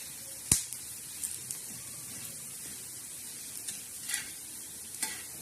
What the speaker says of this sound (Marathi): तर आता बघा, हे धने असे लालसर मस्त भाजलेले आहे